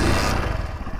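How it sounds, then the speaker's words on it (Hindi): A motorcycle engine catches and runs with a loud, clattering idle, close by, lasting only a moment, then is shut off with an engine kill switch. "बाइक आपकी स्टार्ट हो गई और बंद करने के लिए ये आपकी बाइक बंद हो गई।"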